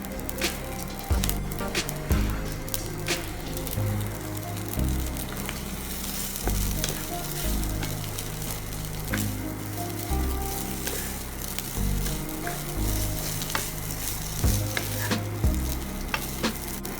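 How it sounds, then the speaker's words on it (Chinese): Rice frozen for two hours is stir-fried in a pan for kimchi fried rice, a steady loud sizzle broken by repeated scraping and knocking of the spatula against the pan, with no talk. "用冷冻过2小时的米饭炒饭会更加 Q 弹和可口哦"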